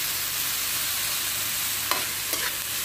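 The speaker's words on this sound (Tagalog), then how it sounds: "Halo-haloin lang din yung kamatis" Tomatoes being stirred as they fry in a pan, a steady soft sizzle throughout with two brief scraping strokes near the end, no voices.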